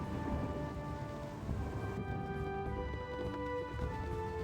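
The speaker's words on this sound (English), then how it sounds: "And now it's raining." Steady rain hisses in a Baldur's Gate scene, with a low thunder rumble underneath and sustained game music tones layered over the downpour.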